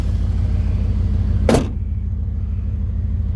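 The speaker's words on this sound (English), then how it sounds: "Let me go ahead and close this hood here." A 1988 Chevrolet Camaro IROC-Z hood slams shut with a single sharp, close thud over a steady low engine idle rumble that continues afterward.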